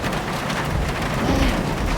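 Steady rain on a Kansas day makes a dense, continuous hiss with a low rumble underneath.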